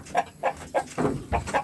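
Pet chickens clucking nearby in a short run of about six separate clucks, loud and close, with no talk over them.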